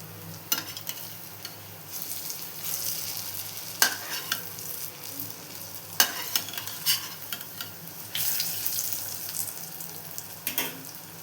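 Urad dal and ginger vadas sizzle steadily in hot oil as they are turned one by one, with a continuous frying hiss broken by sharp scrapes and knocks of a utensil against the pan.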